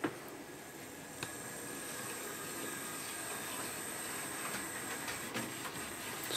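A Hornby P2 Cock O' The North model locomotive running on a new motor gives a quiet, even whir and hiss, with a couple of faint clicks along the track.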